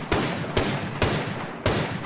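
SKS carbine firing in the video game Survarium, four sharp single shots spaced about half a second apart, loud and close with short decaying tails.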